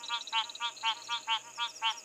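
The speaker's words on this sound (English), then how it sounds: "I'm so rusty with my frog calls that I actually can't even remember what species this really is" Frogs call in a steady pulsing chorus around a dam at sunset in the bushveld, with about eight evenly spaced trilling bursts over two seconds under a constant high insect-like whine.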